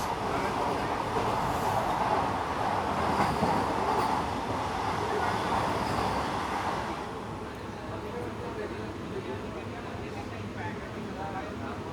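A 20-coach Vande Bharat passenger train runs past with a steady, loud rumble of wheels and carriages that eases slightly after about seven seconds and continues at a lower level.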